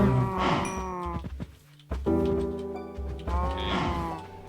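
Cattle in a video game moo in long, drawn-out lowing calls, two or three overlapping bellows that rise and fall, loud and close with a brief gap between them, alone without talk.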